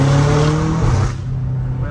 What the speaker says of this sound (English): I feel like with the M5 CS, it's like the perfect car because it sounds so good.